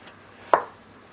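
A single crisp knife chop through capsicum on a cutting board while slicing it into thin strips, one sharp close knock in otherwise quiet surroundings.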